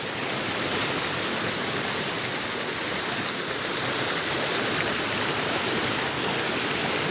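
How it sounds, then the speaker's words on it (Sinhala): A waterfall swollen with extra water at Handukala, Warapitiya, Sri Lanka, rushes in a steady, dense roar of falling water, continuous and fairly close, with no other sounds standing out. "අපි ඉන්නේ දැන් හඳුකල ලස්සන දියපාරක් ළඟයි."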